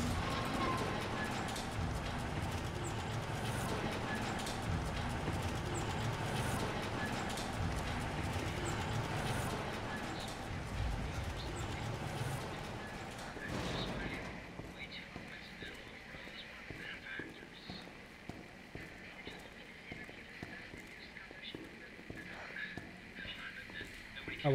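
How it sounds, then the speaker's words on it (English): Rain in the Resident Evil 2 Remake video game, a dense and continuous wash of falling water that is loud at first and then softer and more broken after a sudden shift midway. "Never ending rain."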